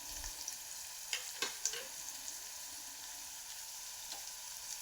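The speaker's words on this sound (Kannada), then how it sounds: "ಈಗ ಈರುಳ್ಳಿ ನೀಟಾಗಿ ಗೋಲ್ಡನ್ ಬ್ರೌನ್ ಆಗಬೇಕು. ಅಷ್ಟು ಚೆನ್ನಾಗಿ ಫ್ರೈ ಮಾಡ್ಕೊತೆ ಅಷ್ಟೇ ಟೇಸ್ಟಾಗಿರುತ್ತೆ ಗೊಜ್ಜು." Chopped onions sizzle steadily in a pan while frying to golden brown for an onion, tomato and fenugreek-leaf gojju, a constant fine crackle with a few scraping stirs of a spatula, no voices.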